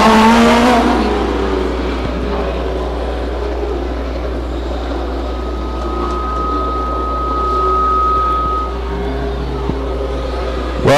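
Race cars at Stockton 99 Speedway pass loudly at the start of a 10-lap heat, then fade to a distant engine drone and a steady whine across the oval track.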